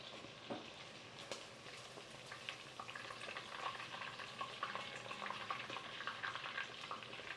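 Breaded chicken tenders fry in hot oil, a steady close crackle and sizzle with scattered pops and some stirring.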